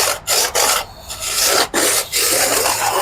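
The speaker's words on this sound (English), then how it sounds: "you can then just use a file and file that edge away." A hand file rasps along the edge of an aluminium panel for an all-aluminium AC Cobra body, making several close, steady back-and-forth strokes with short pauses between them and no talking.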